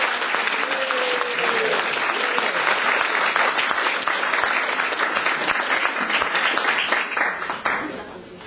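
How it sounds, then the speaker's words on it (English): An audience in a House of Lords meeting room gives a sustained round of applause, dense and steady clapping throughout that tapers off at the end, with a faint voice briefly audible early on. "a big round of applause for Suad."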